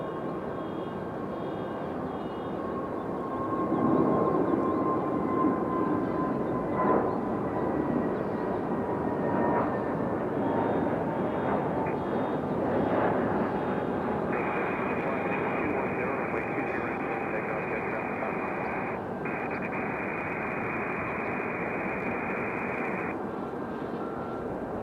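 A jet airliner rolls and takes off at Raleigh-Durham International Airport, a broad, sustained engine roar lasting throughout with a steady whining tone rising through the middle, heard from a distance.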